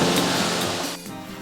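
Mae Kampong Waterfall, a multi-tiered cascade in lush mountains near Chiang Mai, Thailand, gives off a steady broadband rush of falling water, fairly loud and close, and it thins out slightly toward the end.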